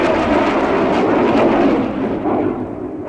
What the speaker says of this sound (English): Whether they originate in the orifice of a modern jet engine